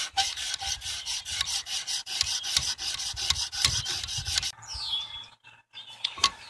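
Scissor blades are stroked against a 400 grit stone on a Wicked Edge sharpener, producing a close, rhythmic series of rasping scrapes about twice a second. The strokes pause briefly near the end, then one more follows.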